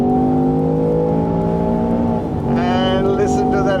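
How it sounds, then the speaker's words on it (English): A 2025 Land Rover Defender Octa's 635hp supercharged V8 holds a steady drone, then shifts and surges louder as it accelerates hard, with rising higher-pitched whine toward the end. "Floor it and it just shoots off."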